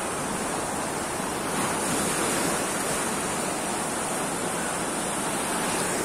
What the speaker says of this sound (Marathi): लाटा कशा सुंदर आहेत.